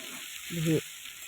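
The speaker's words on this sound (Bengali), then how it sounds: "এরকম করে উপর নিচে উপর নিচে করে আমি ভাজছি চাউমিনটা" Chow mein noodles frying in a pan over moderate heat, a brief soft sizzle and stirring burst near the middle, faint and short against a quiet kitchen background.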